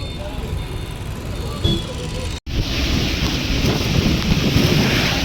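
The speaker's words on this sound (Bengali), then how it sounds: "এখন হচ্ছে রাস্তায় যাচ্ছি আর বৃষ্টি হচ্ছে" Rain pours on a road while a vehicle drives through it, a dense rushing hiss with low road rumble, cut by a brief dropout before the downpour noise swells louder.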